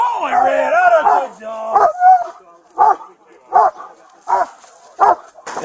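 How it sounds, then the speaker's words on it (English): A police K-9 dog at a fugitive arrest on New Smyrna Beach lets out a long excited howl-bark, then a string of loud, evenly spaced barks close by, with a handler's voice mixed in. "That's a good dog, Red."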